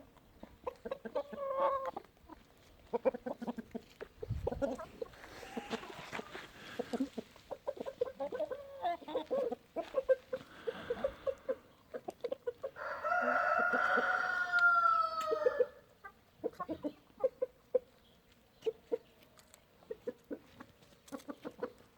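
Brahma chickens cluck and squawk in short bursts close by as they squabble over food, and a rooster lets out a loud crow partway through.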